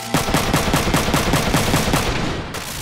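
A rapid, evenly spaced burst of automatic gunfire from the video game Front Mission 3 rattles on loud and close for nearly three seconds before easing off.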